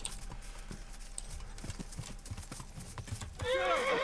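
Horse hooves clip-clop steadily at a moderate distance in Kingdom Come: Deliverance, then a horse lets out a loud, wavering neigh near the end.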